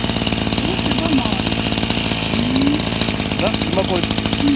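A STIHL FS240 brush cutter's engine runs at a steady idle close by beside a rice paddy levee, its rapid even throbbing continuing throughout while someone talks over it.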